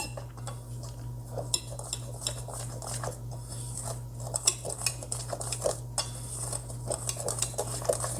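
Dry ingredients, including sifted sugar, being combined in a bowl for a Neapolitan cream cake, with a utensil scraping and clinking against the bowl in irregular close strokes over a steady low hum.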